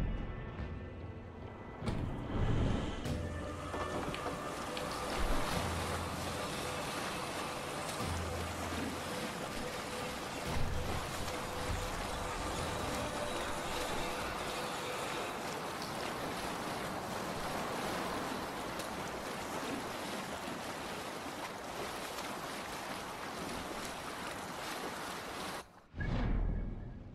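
A sailing ship in Assassin's Creed Valhalla moves along a river on a raid. Continuous water wash and wind rush hold steady for nearly the whole stretch, close and full, then cut off abruptly near the end.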